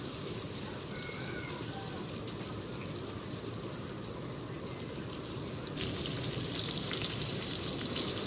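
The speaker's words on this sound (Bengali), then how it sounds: "এক পিঠ ভাজা হয়ে গেছে, এখন আরেক পিঠ উল্টে দিব।" Fish fry in a pan over low heat for a crispy fried fish dish, giving a continuous close sizzle with no break that turns a little louder and brighter near the end.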